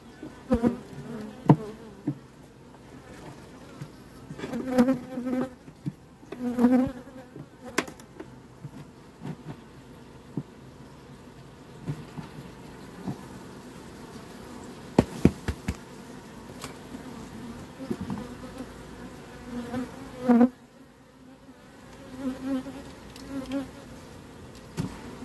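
Bees hum and buzz continuously at close range around an opened hive, with scattered knocks and clicks of frames being handled breaking through the steady drone.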